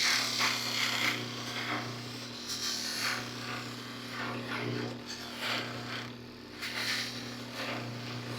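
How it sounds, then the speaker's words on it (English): A briar pipe is pressed against a buffing wheel with wax, producing a soft continuous rubbing whir over a low motor hum, with repeated brushing swells as the pipe is worked back and forth. "there's all kinds of ways to buff pipe, but this is the way I do it"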